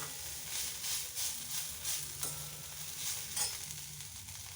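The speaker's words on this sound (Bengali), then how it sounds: "এবার এই বাঁধাকপির তরকারিটা বসিয়ে নিচ্ছি, গুঁড়ো মশলাগুলো সব দিয়ে দিয়েছি, একটু কষিয়ে নেব।" Cabbage curry with ground spices sizzles and fries in a pan, a steady close hiss broken by a few soft scrapes of stirring.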